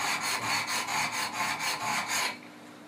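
Benchmade 940 knife blade drawn over the stones of a Wicked Edge sharpener: close, steady rhythmic rasping strokes, about a dozen quick back-and-forth passes, then stopping.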